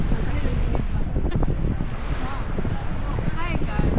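Gusty wind buffets the microphone at a beach on Pandao Sandbar, with people chatting in Filipino over the steady rumble and faint surf.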